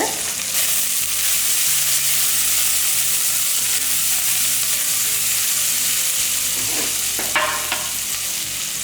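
Two handfuls of small onions (shallots) and curry leaves fry in hot oil for a Chettinad mutton curry, giving a loud, steady sizzle that runs throughout with no talking.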